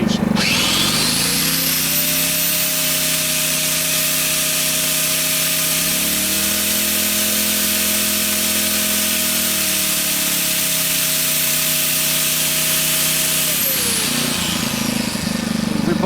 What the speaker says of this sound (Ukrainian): Ви бачите, що в залежності від потужності генератор збільшує або зменшує оберти автоматично на економному режимі.